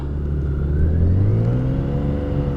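A 2020 BMW K1600 GT motorcycle engine idles low and rumbling, rising slightly in pitch as it revs gently during a slow U-turn, steady and close, with no voices.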